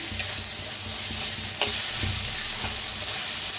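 Peanuts dry-roasting in a pan, a continuous close crackling sizzle with a few sharp scraping stirs.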